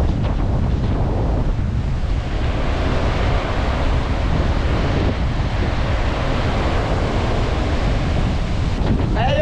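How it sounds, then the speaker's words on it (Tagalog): Strong sea surf pounding a shoreline at a barangay coast, a steady broadband roar of crashing waves mixed with heavy wind buffeting the microphone, continuous and loud with no clear breaks between breakers. "Ang lakas ng dagat dito ngayon mga kasinag"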